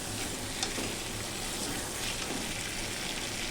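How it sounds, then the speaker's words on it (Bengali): Potatoes sautéing in a thick spice masala for a vegetarian potato and paneer dish, a dense, continuous sizzle and crackle of oil throughout, with no speech over it. "তো মশলাটার সঙ্গে আলুটা খুব সুন্দরভাবে কষানো হয়ে গেছে"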